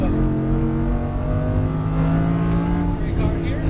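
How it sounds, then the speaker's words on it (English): A Lamborghini Huracán engine holds full throttle down a racetrack straightaway, a loud sustained roar with a rising tone, heard from inside the car with a voice faintly beneath it. "and full throttle down the straightaway"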